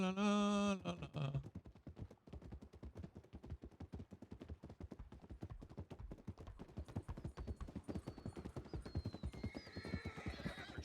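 A horse in a Western roleplay video game gives a loud, close whinny, then its hooves clip-clop in a fast, steady rhythm, with faint background voices toward the end.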